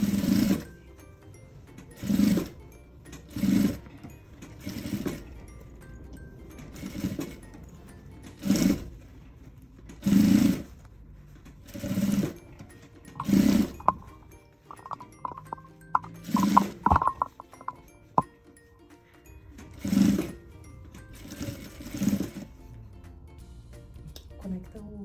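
Sewing machine stitching a maternity bag, a dozen short loud whirring bursts separated by pauses, with someone speaking intermittently between runs of stitching.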